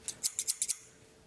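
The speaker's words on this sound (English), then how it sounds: "Just regular scissors." Several quick, crisp snips of Klein scissors close up, about six in a rapid rhythm, then quiet.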